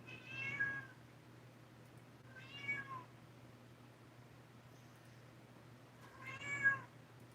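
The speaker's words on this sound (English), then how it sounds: "The kitties are restless." Cats meow three times in separate drawn-out calls, spaced a few seconds apart over a low steady hum, fairly quiet and with no talking.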